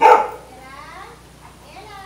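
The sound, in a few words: dog barking aggressively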